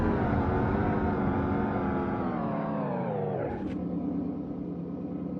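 A Porsche car in a brake test slows with a loud, steady engine roar whose pitch sinks smoothly as it decelerates. A brief sharp squeak follows near the end.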